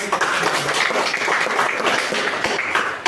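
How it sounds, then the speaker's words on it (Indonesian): Students clapping their hands together in a classroom, a dense burst of applause from a group, loud and continuous across the short stretch. "Oke, tepuk tangan."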